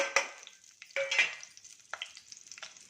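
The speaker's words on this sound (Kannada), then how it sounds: "ಇದು ಸ್ವಲ್ಪ ಫ್ರೈ ಆಗಲಿ" Fennel and garam masala frying in hot oil for a pulao, with bursts of spoon stirring and scraping over a soft sizzle, loud strokes coming in uneven clusters close by, and no talking.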